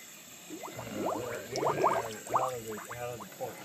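Air bubbles rise and gurgle from a submerged engine cylinder head in a water tank during a pressure test, a close series of quick burbling pops arriving in irregular bursts over a faint background hiss.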